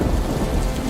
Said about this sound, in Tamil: இந்த வாட்டி திடீர்னு புயல் அடிக்க ஆரம்பிச்சிருச்சு